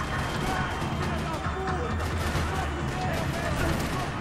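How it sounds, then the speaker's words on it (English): Gunfire from the Max Payne 3 video game rattles through a parking lot in a dense, continuous barrage, loud and close, with scattered impacts layered into the noise. "Another parking lot rattling with gunfire."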